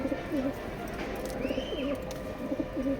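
A male racing pigeon coos in a steady run of low, rolling calls, repeated several times close by over a constant background hum.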